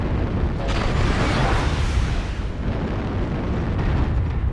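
Artillery strike blasts in MechWarrior Online rumble as a dense, continuous wall of loud explosions with a brighter burst near the start, sustained and booming throughout.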